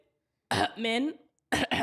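A single close cough breaks the silence, followed a moment later by a couple of quick spoken syllables.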